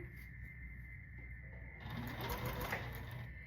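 A sewing machine stitches quilt block units, starting as a faint hum and building into a quick mechanical whir partway through, close by and with no voices.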